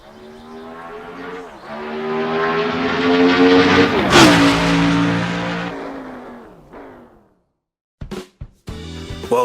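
A 1975 McLaren M23 Formula One car in Assetto Corsa roars as its engine revs rise and fall through gear changes, loud and close, then cuts out before a few short blips return.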